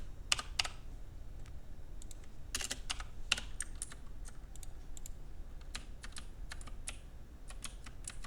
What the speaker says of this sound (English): I'm pressing WASD here